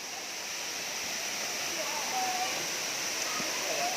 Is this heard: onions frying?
no